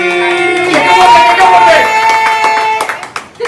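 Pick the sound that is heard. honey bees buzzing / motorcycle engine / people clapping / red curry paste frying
people clapping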